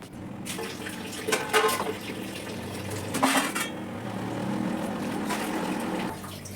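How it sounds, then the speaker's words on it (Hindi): Dishes are washed by hand at a home kitchen sink under running water, with close clinks and clatters of pots and cutlery over a steady stream from the tap and no voices. "हाँ जाओ जल्दी से बर्तन धुलो।"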